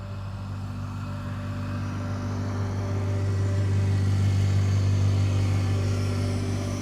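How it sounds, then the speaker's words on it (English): A BAM groundskeeper utility vehicle driving along a cycling path near Amsterdam Schiphol Airport, its steady engine hum slowly growing louder as it passes nearby, with no one talking. "that's the BAM groundskeeper vehicle, for lack of a better description, that was just driving past on the cycling path"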